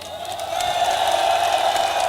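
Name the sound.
citizens applauding a protest march procession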